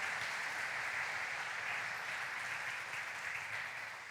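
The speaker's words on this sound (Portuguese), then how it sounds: "Vamos aplaudir o nosso Deus soberano." A church congregation applauds together, a dense continuous wash of clapping from many hands that holds steady and eases slightly toward the end.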